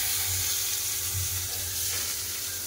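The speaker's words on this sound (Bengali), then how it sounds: "কড়াতে তেল আছে, ফোড়নে দিয়ে দিচ্ছি রাঁধুনি আর কালো জিরে, কেটে রাখা পেঁয়াজ" Radhuni, black cumin and chopped onion sizzle in hot oil in a kadai, a steady close frying crackle with low bubbling throughout, no voices.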